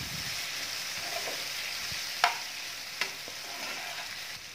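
Tomatoes and spices sizzle in a pan as potato and capsicum cook, giving a steady bright hiss up close. Two sharp spatula taps land partway through, and no one speaks.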